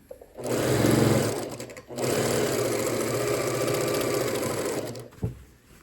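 A sewing machine runs steadily as it stitches the seams of a Town Square quilt block, a loud continuous motor whir in two bursts with a short pause between and a light clunk at the end; no one speaks.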